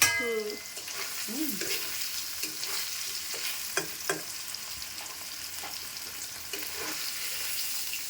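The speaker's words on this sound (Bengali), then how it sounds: "পনিরটাকে আমি বেশি ইয়ে করে ভাজবো না, অল্প একটু ভাজবো" Paneer lightly frying in oil in a kadai, giving a steady, close hissing sizzle with occasional soft stirring taps.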